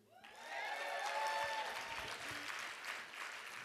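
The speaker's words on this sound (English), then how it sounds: "you guys give another big round of applause for Bridget." A live audience at a stage show bursts into sustained applause with some cheering and whistles, a dense wash of clapping that swells quickly and holds steady.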